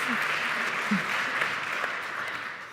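Audience applause at a panel discussion on inclusion in Pittsburgh, a steady wash of clapping from a seated crowd that holds evenly throughout with no talk over it.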